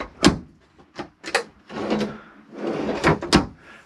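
Drawers on a dressing table in the cabin of a Galeon 425 HTS motor yacht slide open and shut, with several separate wooden thumps and sliding rumbles close by, followed by a longer run of sliding and knocking.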